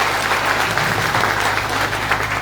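An audience at a public gathering in Kutch claps steadily in dense, loud applause that lasts throughout, with no individual voices standing out.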